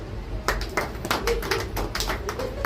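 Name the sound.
clapping hands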